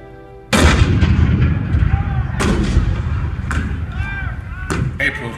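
Cannon fire in the Hall of Presidents show at Magic Kingdom: four heavy booming blasts spaced a second or so apart, each with a long rumbling tail, loud and close.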